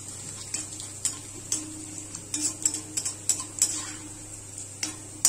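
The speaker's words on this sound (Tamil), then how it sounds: "இது கொஞ்சம் நல்லா வதங்கட்டும்." Fenugreek seeds and a single dried red chilli sauté in hot oil, with a steady high sizzle and irregular small ticks and spoon taps against the pan, close and fairly quiet.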